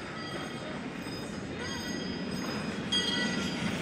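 A train passing near an Ohio amusement park, a steady broadband rumble with faint wheel squeal and tonal whines, continuous and fairly close under ambient crowd noise.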